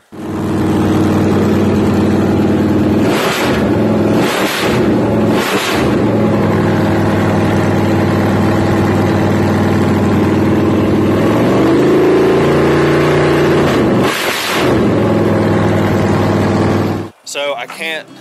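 A loud engine runs continuously, with a few sharp revs and a rising throttle swell near the middle before it cuts off abruptly.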